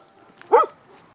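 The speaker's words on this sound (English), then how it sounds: "Dog says woof." A single short woof from a dog in a toddlers' farm-animal song, close and clear against near silence.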